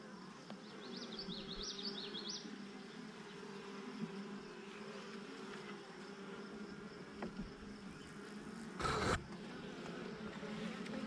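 Honeybees hum around frames of fresh new comb drawn from a hive box, a dense continuous buzzing swarm close by, with a brief louder knock or rustle near the end and no voices.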